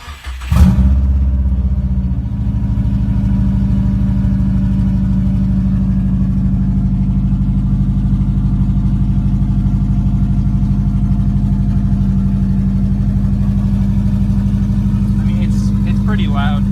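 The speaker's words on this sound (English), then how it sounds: "I'll start up the car so you can hear it" A Subaru with an open downpipe and a Cobb Access Port V2 fires up and settles into a loud, close, steady rumbling idle that drones on without a break.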